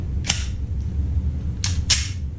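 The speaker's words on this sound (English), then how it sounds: "Function fine, lock the slide open." A Glock G43 pistol's slide is worked and locked open, giving three sharp, close metallic clacks: one early, then two in quick succession, over a quiet background.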